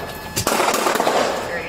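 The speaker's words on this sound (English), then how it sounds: "Northgate and Topanga shots fired." Gunfire during a police pursuit of an armed suspect, a sharp loud burst of rapid shots cracking close by, then a ringing, noisy tail.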